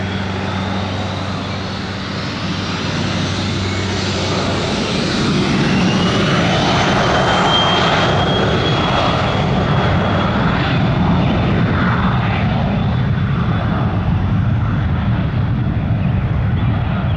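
An airplane takes off from runway 26 left at Spirit of St. Louis Airport, its engine roar building and swelling loudly into a sustained, close drone with a rising whine as it gathers speed and climbs away.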